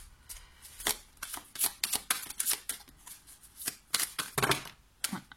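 Playing cards are shuffled and handled at close range during a tarot-style card reading, giving repeated quick riffling bursts and snaps in an irregular rhythm, with no other sound around them.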